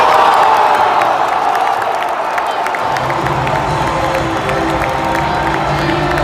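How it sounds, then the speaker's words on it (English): A large stadium crowd at a football match gives scattered, mild applause over a broad, steady roar of cheering and shouting, with a few whoops rising from the far-off mass of fans. "Is that it? Mild applause."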